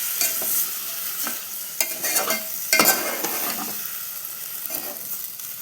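Washed amaranth leaves are stirred in hot oil in a pan, giving a continuous sizzle broken by several scraping, rustling stirs at irregular intervals, close and fairly loud.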